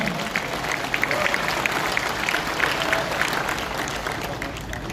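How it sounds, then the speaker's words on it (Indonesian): A church or religious gathering crowd applauds steadily, a continuous wash of clapping with scattered louder claps, heard from a moderate distance. "Jangan ragu-ragu, tepuk tangan untuk Tuhan."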